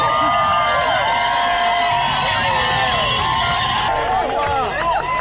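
Loud, dense crowd cheering and shouting at the Derby Enduro World Cup mountain bike race finish in Australia, with whoops, yells and whistles sustained throughout and a cowbell-like clang in the mix.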